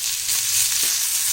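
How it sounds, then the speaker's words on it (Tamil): Chopped tomato and minced ginger sizzle steadily in a hot pan for onion masala, a close, continuous frying crackle with a soft stir. "இதையும் சேர்த்து நல்லா நம்ம இதை வதக்கிடணும்"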